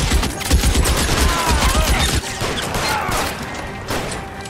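A dense, loud volley of gunfire from the crime game L.A. Noire fills the scene, with rapid overlapping shots and mechanical clatter. The firing is continuous and heavy throughout, with a brief dip just past two seconds.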